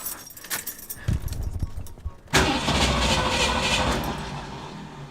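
A car engine cranks with a rapid, uneven whirr, catches and settles into a loud, steady running rumble, after keys rattle close by.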